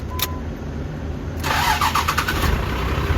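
Engine turning over and catching on a kitchen trailer's tow rig after a seized belt was freed, a short crank followed by the engine firing into a steady, close idle.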